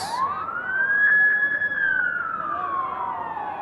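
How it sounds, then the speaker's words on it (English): A wailing emergency vehicle siren near a college lacrosse game rises and holds a steady pitch, then slowly falls away, loud and continuous over a low background rumble. "As you can hear the sirens in the background."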